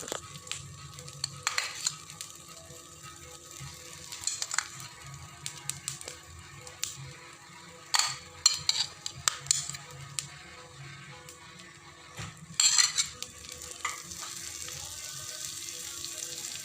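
Butter sizzles steadily on a dosa (a Schezwan-style butter uttapa) in a pan over a low gas flame, a soft continuous fry with occasional sharper crackles and clinks, close by and with no talking.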